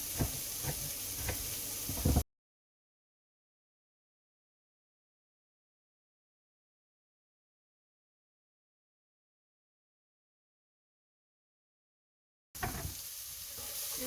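Chopped celery strips sizzle and crackle in a hot frying pan as they are stirred. The sizzling is heard for about two seconds at the start and again near the end, with a long stretch of silence between.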